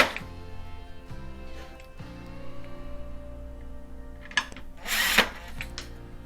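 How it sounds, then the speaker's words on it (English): A power drill runs in short bursts, driving two Phillips head screws back into a Samsung refrigerator during a repair, with a few louder knocks near the end. "Reinstall your 2 Phillips head screws."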